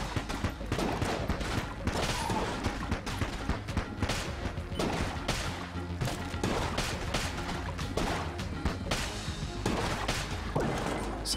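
Rapid bursts of gunfire in the video game Enter the Gungeon with crashes and impacts, dense and continuous, mixed with busy background effects.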